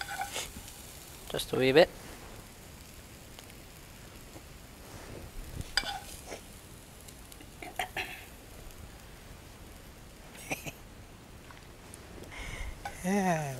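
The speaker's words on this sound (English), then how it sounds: "this lovely spinach. Sauteed in onions." Spinach sautéing with onions in a pan gives a faint, steady sizzle under sparse talk, with a few brief clatters of utensil against pan.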